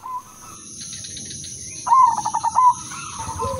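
A zebra dove, or perkutut, gives a short rhythmic run of cooing notes at close range, preceded and followed by softer calls against a quiet background.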